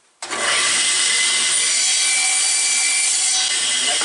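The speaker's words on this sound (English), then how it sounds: "you can just do it with a regular table saw." A regular table saw slices into a wooden board for a beehive box, opening with a sharp bite and then a loud, sustained high-pitched whine and rasp of the blade running close by.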